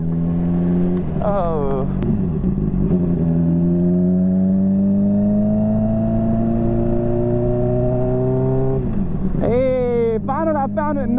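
A motorcycle engine holds a loud, steady hum, close by while riding through a neighborhood street. It revs up briefly near the start and again toward the end, and a voice speaks over it.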